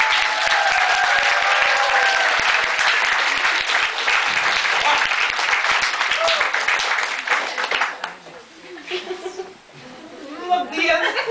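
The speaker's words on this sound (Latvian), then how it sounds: "Tagad aplausiem mūsu..." Audience applause and chuckles fill an improv comedy theatre show, a dense, loud burst of clapping that thins out near the end as voices and laughter take over.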